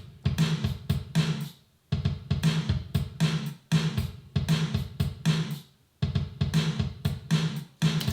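Programmed demo drums in an 80s style, a layered gated snare mixed with kick, thumping in a steady repeating groove with short punchy hits and brief gaps between bars, heard alone.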